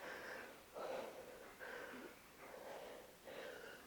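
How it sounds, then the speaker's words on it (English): A dog pants heavily off to one side of a room after playing frisbee, rhythmic rasping breaths in regular bursts, faint and close without any talk. "If you hear heavy breathing, it could be me, but it's most likely my dog."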